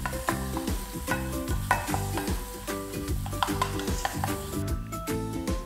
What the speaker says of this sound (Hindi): इसमें डाल दीजिए ग्रेटेड अनियन। अब इसे अच्छे से पका लीजिए